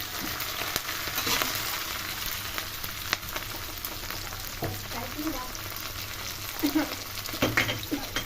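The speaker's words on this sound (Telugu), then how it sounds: "ఇప్పుడైతే ఈ ఉల్లిగడ్డలు దీంట్లో వేస్తున్నాం కొద్దిగా గోల్డెన్ కలర్ వస్తుంది ఫ్రై కావాలి" Onions and chana dal frying in a pan for a simple pappu charu, a steady crackling sizzle with occasional stirring clatters close by.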